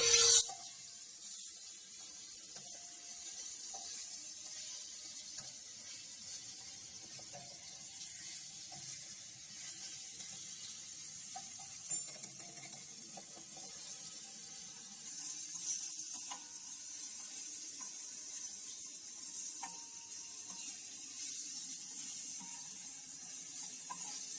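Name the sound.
beef frying in garlic in a karahi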